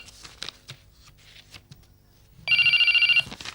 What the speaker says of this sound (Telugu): ఇందిరా, ఆ ఫోన్ ఏమిటో చూడు.